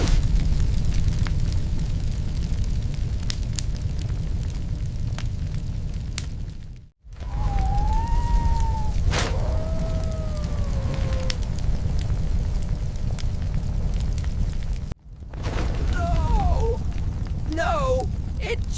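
A LEGO wildfire blazes in a steady, loud roar of crackling flames and rumbling bursts, cut by two brief silent gaps, with faint whistling tones rising over the fire.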